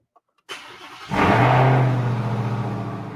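A click, then a car engine cranks and catches, roaring up loudly and settling into a steady, strong idle with a rising whine.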